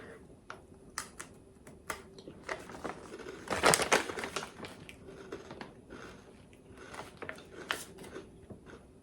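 Small crunchy snacks from an Aldi grocery haul are chewed close up, a run of crisp irregular crunches and crackles with a louder burst midway, softer bites trailing off.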